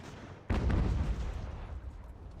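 A single heavy cannon boom from Ultimate General: American Revolution, a sharp onset followed by a long rumbling decay, loud and alone with no talk.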